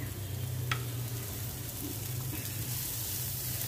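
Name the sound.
cabbage added to hot pan with green chili, ginger, garlic, sizzling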